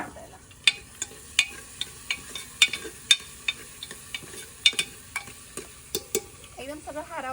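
Chopped tomatoes and onion stir-fried in a pan over a village wood-fired stove, soft frying hiss under sharp, irregular clinks and scrapes of a spatula against the pan, with a bird chirp near the end.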